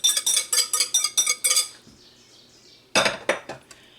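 Coffee cake batter from pancake mix being stirred as wet ingredients go into dry, a run of rhythmic utensil-on-bowl scrapes and clinks, a brief quiet pause, then a few more strokes, close and fairly loud with no talk.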